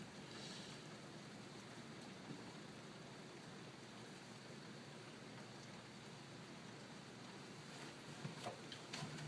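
Rain pouring steadily outdoors as a garden pond fills and spills over brick like a small waterfall, a soft, continuous hiss of falling water heard quietly at a distance, with no one talking.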